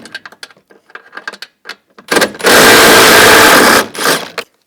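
A 13mm socket on a ratchet pulls bolts from the dashboard of a 2010-2017 Chevrolet Equinox, with quick bursts of sharp ratcheting clicks, then a loud steady whirring spin of about a second and a half, and a few more clicks.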